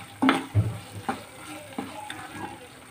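Chili flakes being stirred into a cutlet mixture for chicken Russian cutlets, giving a few soft scraping, mixing strokes at close range with no talking.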